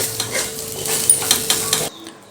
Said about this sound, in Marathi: अशा पद्धतीने अगोदर थोड्याशा भाज्या या परतून घ्यायच्या आहेत